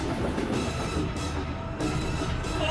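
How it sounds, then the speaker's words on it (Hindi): A train rolling along the rails toward a giant pit, a loud, continuous rumbling rush with rail clatter that stays steady and close throughout. "ओह माय गॉड, ट्रेन आ रही है।"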